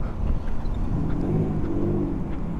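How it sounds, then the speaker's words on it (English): A Subaru engine revs and accelerates at a car event, a steady, close mid-pitched drone that holds for a couple of seconds with no talking over it. "Another Subaru coming up."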